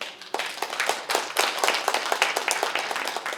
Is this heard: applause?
yes